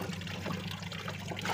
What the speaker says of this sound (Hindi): अब इसमें मैं उतना ही पानी मिलाऊंगी जिससे कि यह लिक्विड फॉर्म में आ जाए